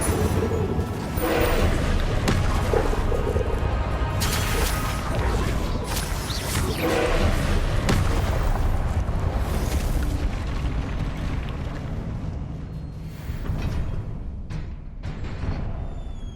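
Spells explode in combat in the Hogwarts Legacy video game, a dense, loud stretch of booming blasts, crashes and whooshes that runs almost without break and thins out near the end.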